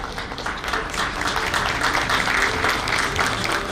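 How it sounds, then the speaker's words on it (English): Delegates at the inaugural session of a national convention give a huge round of applause, a full, sustained patter of many hands clapping steadily throughout. "May we have a huge round of applause."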